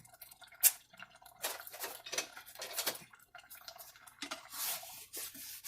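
A spoon stirs hamburger, ramen and tomato soup in a pot, producing faint scraping and clinking of metal against the pan in irregular strokes, with small liquid splashes and a sharper clank early on.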